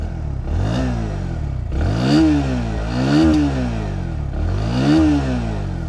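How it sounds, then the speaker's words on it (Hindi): A Bajaj Pulsar NS160 motorcycle with an underbelly exhaust revs up loudly several times, each throttle blip rising in pitch and falling back to idle, close and alone with no talk. "तो एक बार अभी एग्जॉस्ट नोट सुन लेते हैं।"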